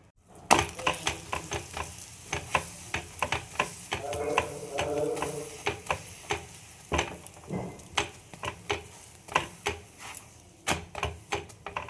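Aloo-matar paratha fries in a pan with a quiet, steady sizzle, broken by many sharp clicks and taps of a spatula or utensil against the pan in an uneven rhythm.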